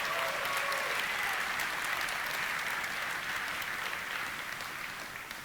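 A large audience at a launch event for new Nvidia graphics cards claps loudly and steadily, a dense wash of applause that fades slightly toward the end, with no talking over it.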